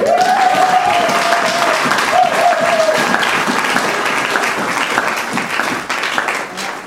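Church congregation clapping loudly with some cheering and voices, a sustained burst of applause that slowly tapers.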